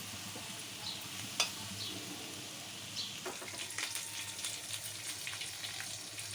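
Beans and potato curry being stirred in a pan, with soft scraping and clinks over a gentle background sizzle, one sharp knock early on and busier stirring toward the end.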